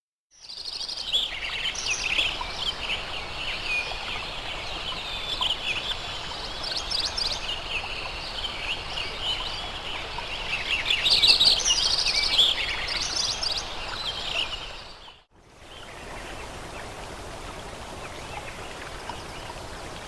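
Forest or meadow soundscape recorded before selective logging, with dense overlapping bird calls and chirps over a steady ambient wash, swelling midway before an abrupt cut to quieter background noise.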